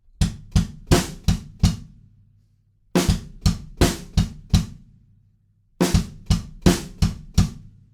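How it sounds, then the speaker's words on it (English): Drums play a verse groove on the rims, giving crisp, close clicks in three short bursts, each a quick run of strokes that stops dead, with silent gaps between. "we're playing on the rims and we've got to stop on beat 3 again."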